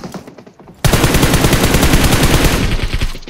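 PUBG Mobile gunfire: after a few scattered shots, a loud, rapid burst of automatic fire rattles on steadily for over two seconds, close and sharp.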